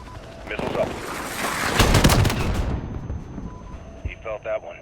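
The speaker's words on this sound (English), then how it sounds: "Missiles up." Missiles and gunfire fill a Modern Warfare video game battle against enemy armor, with a build of rumbling explosions and rapid shots peaking in the middle, then fading as voices speak briefly.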